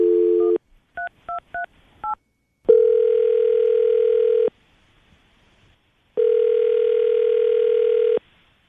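A telephone line for a radio call-in: a steady dial tone, then four quick keypad dialing beeps, followed by two long ringback tones separated by a pause, loud and close with no talking.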